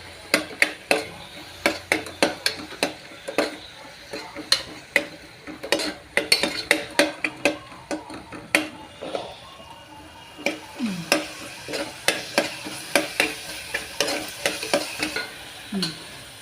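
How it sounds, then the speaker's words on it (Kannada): Spices and ginger fried in a pan before fenugreek greens go in: a steady sizzle beneath rapid, rhythmic scraping and tapping of a ladle against the pan, close and fairly loud throughout. "ಸ್ವಲ್ಪ ಹಸಿ ವಾಸನೆ ಹೋಗುತ್ತನ ಫ್ರೈ ಮಾಡೋಣ್ರಿ"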